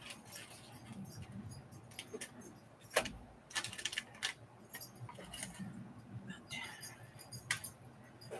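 Small metal paper clips rattle and clink as they are handled at a craft table, a run of light, close jingles and taps spread through the moment with a few sharper clicks, under quiet room noise.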